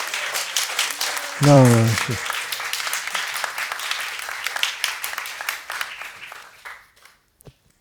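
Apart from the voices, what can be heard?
hand clapping applause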